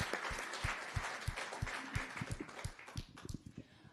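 Audience at a county commission candidate forum applauds in welcome of the candidates, a dense, steady wash of clapping with sharper individual claps and low thumps scattered through it.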